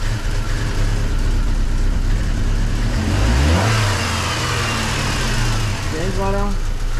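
A 2005 Chevy Colorado engine, freshly started after restoration and running a little rough, revs up and falls back twice over a steady idle, loud and close, with people talking nearby.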